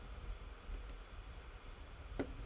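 Computer mouse clicks during editing in Premiere Pro: a few soft, brief taps, one near the start, another just after, then a sharper click near the end, over quiet room hiss with no talk.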